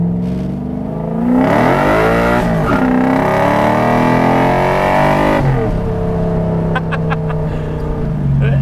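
A drift truck's engine revs and climbs through its gears at close range, loud and continuous, dropping back before sharper bursts near the end.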